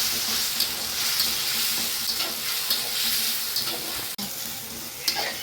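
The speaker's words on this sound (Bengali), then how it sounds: "সেই মশলাটা এই তেলের মধ্যে দিয়ে দেবো। দিয়ে সুন্দর করে কষবো।" Spice masala for soaked soybean chaap fries and is stirred in hot oil, a dense, continuous sizzle with intermittent scraping strokes of the spatula, close and fairly loud throughout.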